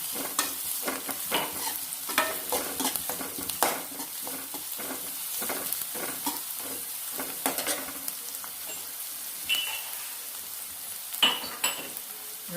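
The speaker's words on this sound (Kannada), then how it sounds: "ಈಗ ಬೆಳ್ಳುಳ್ಳಿ ಕೂಡ ಚೆನ್ನಾಗಿ ಫ್ರೈ ಆಗಿದೆ" Crushed garlic frying in hot oil for spinach moong dal sambar, a steady close sizzle with frequent scraping stirs and light clinks of a utensil against the pan, no voices.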